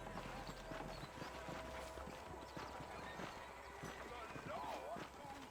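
In the Red Dead Redemption video game, a horse's hooves clip-clop steadily over a low background bed, with a short whinny near the end and game voices talking throughout.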